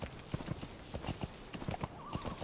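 Horse hooves clip-clop at a gallop in Metal Gear Solid V: The Phantom Pain, with a whinny breaking in near the end, close and steady.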